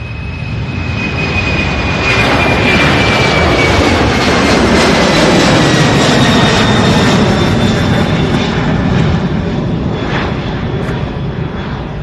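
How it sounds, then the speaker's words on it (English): An MD-11 jet aircraft taxis at Louisville airport, its loud, continuous roar of engine noise close and steady for the whole stretch, with a thin whine riding on top and no talking. "We have a MD-11 taxiing over now, and then I see another MD-11 pushed back."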